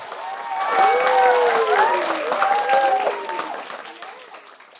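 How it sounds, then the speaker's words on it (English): An audience at a children's book festival welcomes author A.F. Steadman with applause mixed with high, excited cheers and whoops, loud and close, swelling early and then tapering away. "Big round of applause."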